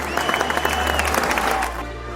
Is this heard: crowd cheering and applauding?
yes